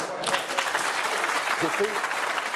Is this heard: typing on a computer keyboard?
no